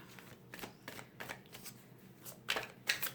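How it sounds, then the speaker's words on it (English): A deck of tarot cards being cut and handled, several soft riffling flicks close by, spaced irregularly and growing a little louder near the end, with no talk. "I'm just going to cut the deck."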